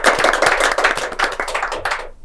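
Studio audience applause for a guest on an Indonesian TV talk show, dense crowd clapping filling the room steadily before tapering off at the end.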